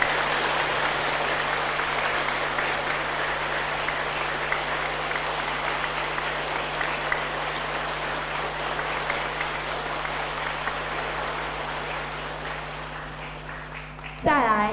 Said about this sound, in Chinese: 掌声再大声一点